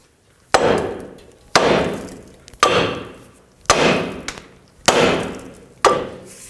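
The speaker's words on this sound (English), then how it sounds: "take your hammer on the knuckle until the tie rod breaks free" Six sharp metallic hammer blows on a 2007-2009 Saturn Aura steering knuckle to free the tie rod land about a second apart, each ringing briefly before fading, loud and close with no talking.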